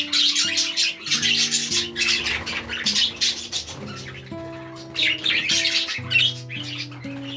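A young female budgie calls in an aviary amid a lively flock, with rapid chirps, squawks and warbling that overlap in dense, continuous bursts over steady tonal background music.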